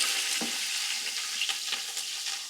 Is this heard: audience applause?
no